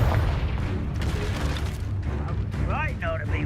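A Confringo blasting spell erupts in Hogwarts Legacy, a dense rumbling boom layered with crackling blasts and a warbling magical whine, loud and sustained, with a voice shouting.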